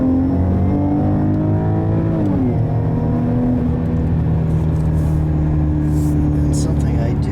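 2018 Maserati Ghibli engine hums under load with a brief rev change as a manual shift blips the throttle, steady and fairly loud inside the car, with some faint clicks late on.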